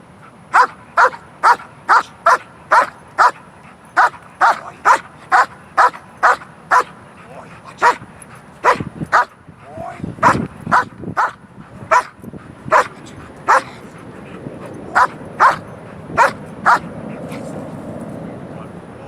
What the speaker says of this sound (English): he barks like crazy at this ball